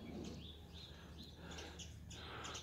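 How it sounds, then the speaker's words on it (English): Birds singing outdoors, with repeated chirps and short whistled calls at moderate distance over a steady low background hum and faint insect buzz. "So you like to hear the birds"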